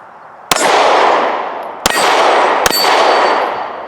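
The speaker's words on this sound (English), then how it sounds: "just by seating that mag firmly, the slide did go home on its own" An HK VP9 pistol slide snaps forward after the magazine is seated: three sharp, loud metallic clangs, each followed by a long ringing decay, close and with no voices.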